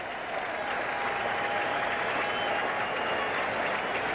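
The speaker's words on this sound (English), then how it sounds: "the crowd again getting behind Dwight" A ballpark crowd at a Reds–Mets baseball game applauds and cheers steadily from a distance, with a broad sustained roar throughout and no speech.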